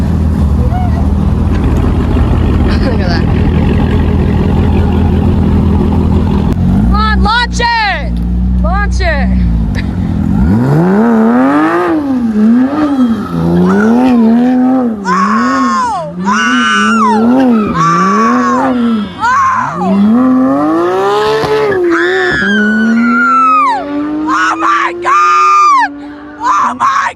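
A Dodge Hellcat rumbles loudly at a supercar meet, then revs hard in repeated rising and falling surges, its engine tones swooping over the noise of an excited crowd yelling and cheering nearby.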